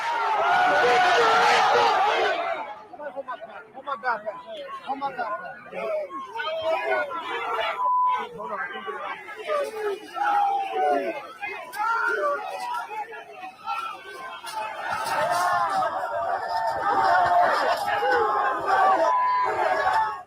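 A large crowd at a protest shouts and roars near barriers, with loud massed yelling at the start and end and a continuous babble of voices and chatter throughout.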